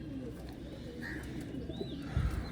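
Pigeons kept at a Tarn Taran pigeon club coo in low, throaty bursts at the start of winter, a steady murmur close by with one louder coo near the end and no talk.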